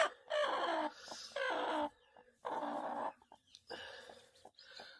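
A hen that has just hatched chicks clucks and squawks in several loud bursts with short pauses between them, close by and with no talking.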